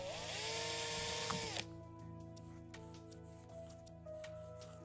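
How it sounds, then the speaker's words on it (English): A power drill whines loudly while boring holes in a thin aluminium soda can for a homemade stove, then cuts off abruptly, leaving a quieter humming background with faint taps. "Now let's drill some holes."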